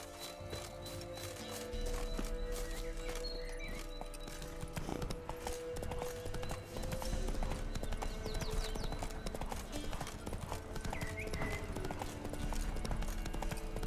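Horse hooves clip-clop steadily in The Witcher 3, a continuous trotting rhythm over the game's ambient music and world sounds, with no talk.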